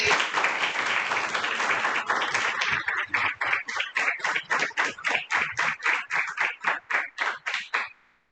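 An audience applauds after a lecture on the Indian knowledge tradition. A dense burst of clapping fades into rhythmic, evenly spaced unison claps before stopping abruptly.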